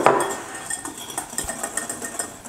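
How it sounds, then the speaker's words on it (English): A whisk or spoon beats egg yolks with white sugar in a bowl, giving rapid close clinks and scrapes against the bowl in an uneven rhythm with no voices. "putting 80 grams of white sugar in your egg yolks and mix them well so that they become white"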